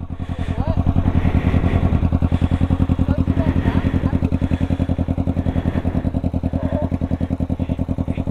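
A motorcycle engine during a beginner's riding lesson runs loud and close throughout, with a steady low, rapid pulsing thrum and slight rises and falls in revs. Faint voices can be heard under it.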